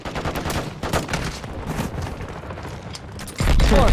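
Rapid gunfire in the Call of Duty video game, a dense run of sharp shots and booms, loud and close, ending in a heavier blast.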